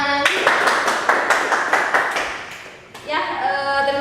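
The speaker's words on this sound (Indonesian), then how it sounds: "semuanya tepuk tangan" Audience clapping at the close of a talk by a speaker, a steady round of claps from a group with a brief dip near the end before it picks up again, and a voice heard over it.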